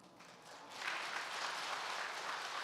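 An audience at a Catholic parish lecture breaks into applause, a soft, dense patter of many hands that swells after a moment and holds steady at a moderate distance, with no talking over it.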